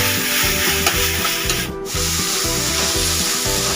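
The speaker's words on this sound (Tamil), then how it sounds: "இஞ்சி பூண்டு பேஸ்ட்டை வந்து வெங்காயத்தில் வதக்க விடணுங்க" Ginger garlic paste and onions being sautéed in a pan for chicken chukka, with loud, rhythmic spatula strokes scraping the pan about twice a second.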